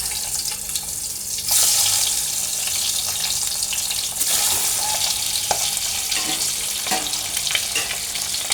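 Boiled eggs rubbed with turmeric fry in hot oil, a continuous close sizzle and crackle with a few scrapes and taps, running steadily without speech.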